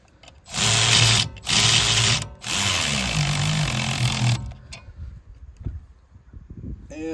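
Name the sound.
power tool removing bolts on brush hog clutch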